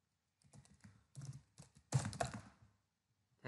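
Quick bursts of typing on a computer keyboard, close and crisp, several short runs of key taps separated by brief pauses, with no talking.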